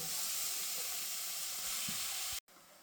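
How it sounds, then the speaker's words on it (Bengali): Grated bottle gourd sizzles in hot ghee with bay leaf and whole cardamom, making a steady, dense hiss close by that cuts off abruptly near the end. "এবারে আমি গ্রেট করা লাউটা দিয়ে দেব"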